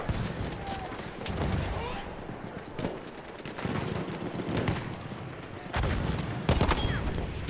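Video game gunfire cracks in scattered bursts and volleys alongside a player's talk, with a louder cluster of shots near the end.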